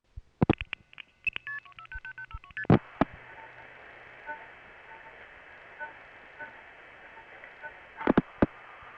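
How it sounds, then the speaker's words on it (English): Quiet crossbar tandem telephone switching during MF outpulsing, with sharp relay clicks and short multi-frequency tone bursts, then a faint steady tone and a few more clicks near the end. "the gonging noises that you will hear when a crossbar tandem is outpulsing"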